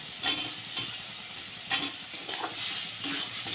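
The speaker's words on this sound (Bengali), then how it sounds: "এবার দিয়ে দিচ্ছি সিদ্ধ করে রাখা আলুটা" Boiled potatoes and peas sauté in a spice paste, sizzling with a bright, continuous hiss. Several scraping strokes of a spatula stir the pan in uneven bursts, close up, with no talking.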